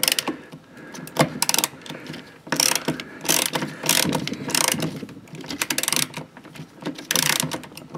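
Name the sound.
ratchet removing steering column bolts on 1987 Olds 442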